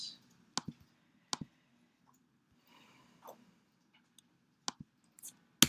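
A computer mouse clicks during Photoshop editing work, a few sharp isolated clicks spaced seconds apart against near silence.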